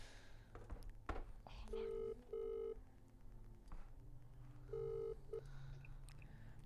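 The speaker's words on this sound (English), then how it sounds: "let's call Gemma" Several short electronic dialing tones beep in separate bursts, with soft handling clicks and faint background noise between them.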